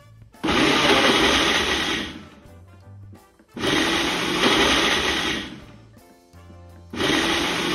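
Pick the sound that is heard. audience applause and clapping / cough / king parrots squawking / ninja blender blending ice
ninja blender blending ice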